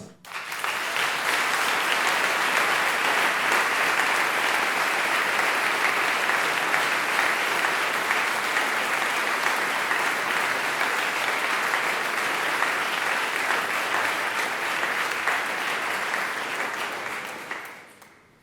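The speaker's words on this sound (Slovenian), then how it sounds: "vsi skupaj si zaslužite en velik aplavz" A spring concert audience gives long, sustained applause, a dense steady wash of clapping that holds strong for about seventeen seconds before fading at the end.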